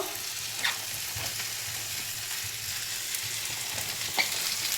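Green beans frying in a pan with eggplant being added for a banana stem dish, giving a steady, dense sizzle with a few faint stirring scrapes and clinks.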